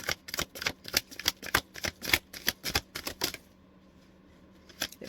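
Oracle cards are shuffled in a quick run of crisp, riffling slaps for about three seconds, then a pause and one last soft card flick, close up with no talking.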